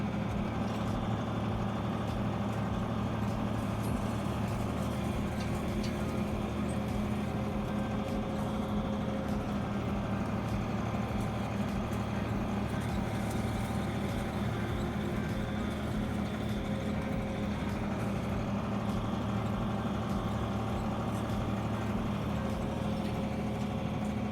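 A tractor engine idles steadily with a low, droning rumble and faint mechanical hum while hitched to a V-Rake for raking hay, continuous and close with no speech.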